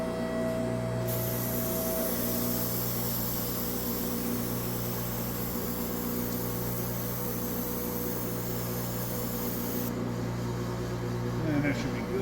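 Brake cleaner sprayed in a long, steady hiss over the engine of an overheating Pontiac Grand Prix, running nearly continuously for about nine seconds at close range over a constant hum.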